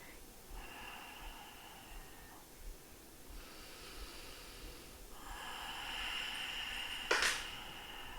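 Slow, steady nasal breathing during a yoga flow, long airy inhales and exhales repeating close and faint, ending in a sharper forceful exhale.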